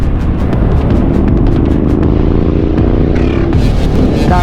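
A motorcycle carrying a passenger during the Boss Ironman 2024 endurance ride passes close by, its engine a loud, steady drone that swells and shifts near the end, with no talk.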